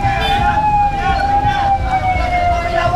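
A fire truck siren holds a steady, slowly falling tone over loud traffic rumble during Tropical Storm Enteng in the Philippines, sounding close and continuous throughout.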